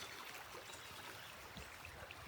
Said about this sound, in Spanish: Seguimos bordeando el río